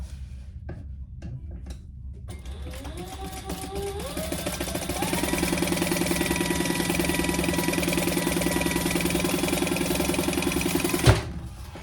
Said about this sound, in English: we're just going to sew across the top